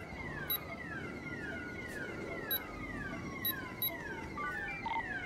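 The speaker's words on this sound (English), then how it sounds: "I hear sirens though" Police sirens in the GTA video game, a steady rising and falling wail held at a moderate distance over a dense, noisy background, with brief tonal beeps cutting in now and then.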